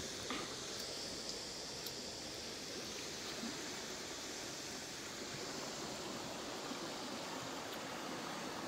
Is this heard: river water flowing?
yes